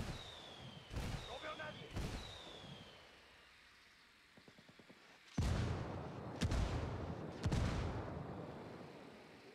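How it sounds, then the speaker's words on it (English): Mortar fire called in from allied rebels in the video game Ghost Recon Wildlands, heard as several loud, booming blasts in the second half of the clip, with a run of rapid gunfire just before them. "Call the rebels for mortar fire."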